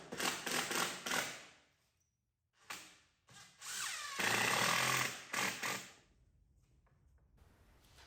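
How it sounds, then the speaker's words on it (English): A power drill drives screws into wooden love seat boards, giving several short, close buzzing bursts, then a longer whine at the end, between pauses of quiet. "I then clamp the boards down and set in screws."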